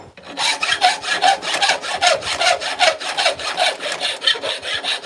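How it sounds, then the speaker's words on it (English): Hand filing over one edge of 1/4 inch metal flat stock while making forging tongs, a series of rhythmic, loud rasping strokes close up, roughly two per second, with no talking. "File over one edge a little bit."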